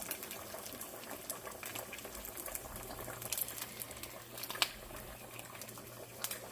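Bacon frying in a pan to render grease for sautéing onions, a steady soft crackle and sizzle with scattered sharper pops, continuous and moderately faint throughout with no talking.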